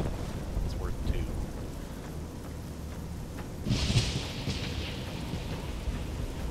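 Steady rain hisses in Fallout New Vegas with a low rumble of thunder rolling underneath and a brief brighter swell midway, a continuous moderate wash of weather sound throughout.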